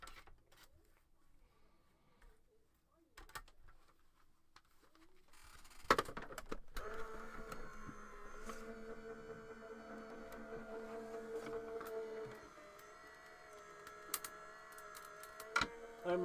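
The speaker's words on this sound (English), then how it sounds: "And run it through Mr. Die Cutting Machine." A die cutting machine cranking a sheet through its rollers, a steady, mid-loud mechanical whir with rattles and clicks that starts after a few quiet seconds of handling and runs to the end.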